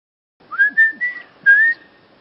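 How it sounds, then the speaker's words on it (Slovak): Indigenous people communicate by whistling, sending a short sequence of four clear, tonal whistles, near and fairly loud, with slight pitch glides and brief pauses, alone against a quiet background. "Počas cesty spoznal domorodcov dorozumievajúcich sa pískaním."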